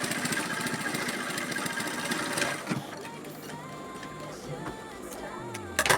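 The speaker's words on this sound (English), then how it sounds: "I'll start sewing it." A sewing machine stitches pleats into the body of a fabric turban cap, running with a steady, close mechanical whir and rapid needle chatter that slows near the end.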